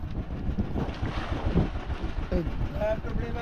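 Boat motor running on a large outrigger bangka off Lapu-Lapu, a close, gusty rumble mixed with wind buffeting and water wash, with people talking briefly over it.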